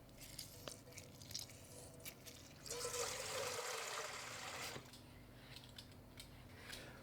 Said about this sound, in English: We are going to peel them, core them, and we're going to stick them in a little acidulated water